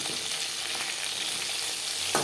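Fish pieces fry in hot oil in a pan for a Bengali mustard fish curry, a steady close sizzle with a faint stir or scrape near the end and no talking.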